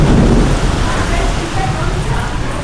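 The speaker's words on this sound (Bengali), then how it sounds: "কেন বৃষ্টি হচ্ছে।" Rain falls heavily during a sudden storm at a house, a loud, dense wash of noise close by with a deep rumble underneath.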